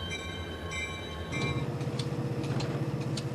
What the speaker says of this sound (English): A new crew comes aboard, and the train moves on